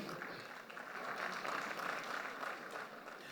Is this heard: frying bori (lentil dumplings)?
no